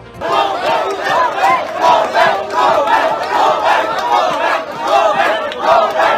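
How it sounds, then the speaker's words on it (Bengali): Protesting junior doctors chant a "go back" slogan in unison, a crowd of voices repeating the short phrase in a steady, rhythmic cadence at close range. "তাকে দেখা মাত্রই গো ব্যাক স্লোগান তোলেন আন্দোলনকারীরা"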